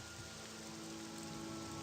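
Rain falls in a video game as a soft, even, very quiet hiss of steady downpour with no other sounds.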